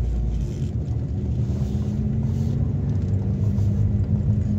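A Renault R11 GTX car with its engine running, a steady low rumbling idle heard up close, continuous and fairly loud with no talking.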